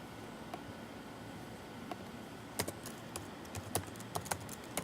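Computer keyboard typing on a quiet desk, scattered keystrokes coming irregularly and growing busier toward the end, faint against a low hiss.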